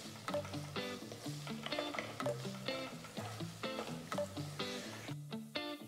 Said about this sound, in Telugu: చిన్నగా తరిగిన ఒక ఉల్లిపాయ కూడా వేసి వేయించాలి